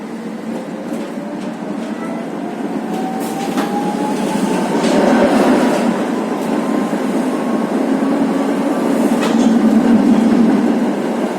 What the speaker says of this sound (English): And there's also a sort of 80s, 90s tram.